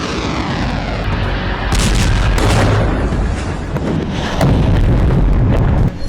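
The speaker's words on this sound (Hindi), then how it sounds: "ये मिसाइल खार्किव के सबवे स्टेशन पर गिरी और तबाही फैल गई" Russian missile strike on a subway station in Kharkiv: loud, dense rumbling blasts and booming detonations, with a sharper surge midway and another heavy burst near the end, continuous and chaotic throughout.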